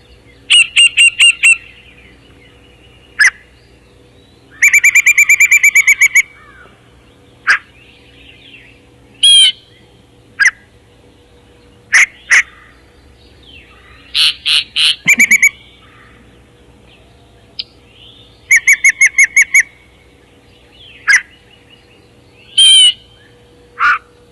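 Yellow-breasted chat singing alone in repeated bursts of odd whistles, chatters and harsh notes, mimicking other birds, with clear pauses between phrases and a faint low hum underneath.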